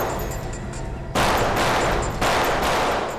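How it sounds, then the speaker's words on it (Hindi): Gunfire in a crime TV drama: sustained bursts of loud shots in rapid succession, with a sharp jump in intensity partway through and a second volley soon after, dense and close, no talk. "गोलियों की आवाज"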